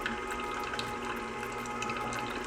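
Juice streams steadily from a Canoly C16 juicer, a continuous close liquid pour with a faint motor hum beneath, no talk.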